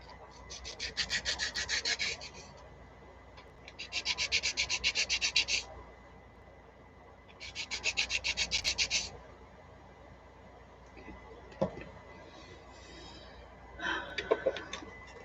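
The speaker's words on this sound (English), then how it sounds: "Okay, they need sanding though." Three bursts of rapid back-and-forth sanding on a doll part, each about two seconds long, close by, followed by a few light taps and scrapes.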